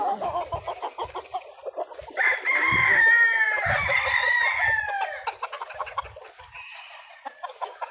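A Boston F1 gamefowl stag crows once, loud and close, in a long rising-then-falling call. Softer clucks and other farmyard fowl sounds come before and after it.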